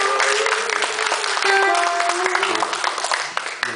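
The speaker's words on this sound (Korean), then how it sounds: "박수" An audience applauds steadily during a band introduction at a live Jeju band performance. The clapping is bright and continuous, with faint voices and a few tonal notes mixed in.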